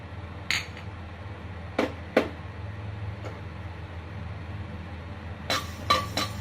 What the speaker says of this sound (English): We are going to dry roast the mustard.